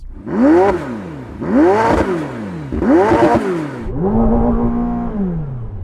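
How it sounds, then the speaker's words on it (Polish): McLaren 750S with a 4-litre twin-turbo V8, revved three times in quick sharp blips that rise and fall, then held at a steady lower idle-like drone; loud and close, no talk. "Podkręcę tę 4-litrową podwójnie turbodoładowaną V8."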